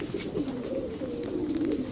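Pakistani teddy pigeons coo in a steady, close murmur from a crowded group of birds, with no talking.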